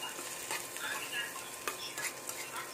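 An egg fries in a pan of sautéed CDO corned beef, a constant close sizzle with light scraping stirs and a few soft utensil taps, without speech.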